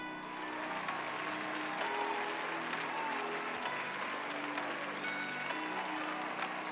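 Sustained audience applause, an even wash of many hands clapping at steady volume for several seconds.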